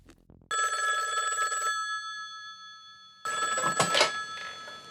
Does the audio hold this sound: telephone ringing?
yes